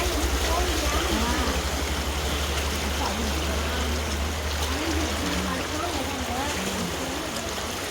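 Floodwater from a day of heavy rain rushing down a residential street in Virudhunagar like a river, a steady broadband wash that stays loud and constant throughout, with a low engine-like hum underneath.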